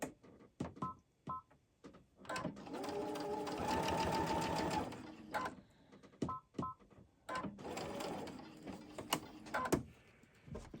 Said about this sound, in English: chain stitching is what I'm doing here, where I just do one right after the other